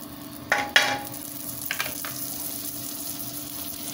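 Bread roasting in butter with spiced masala in a pan, a steady sizzle with a couple of sharp spatula scrapes early on, close and alone.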